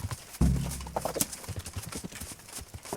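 Horse hooves clip-clop at a steady gallop in a medieval video game set in Bohemia. A heavy thump opens the run, then quick, evenly paced hoofbeats continue close and clear.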